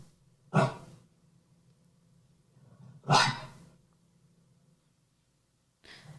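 Two short, nasal dog barks about two and a half seconds apart, fairly close, with a third bark starting at the very end.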